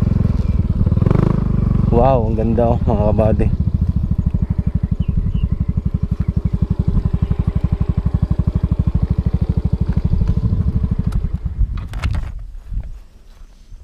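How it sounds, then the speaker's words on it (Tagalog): A service motorcycle idling with a steady, close, loud engine rumble that holds for around ten seconds before cutting off, while someone speaks over it briefly near the start, at a highland viewpoint above Batangas City. "Dito tayo paparking ng ating service na motor."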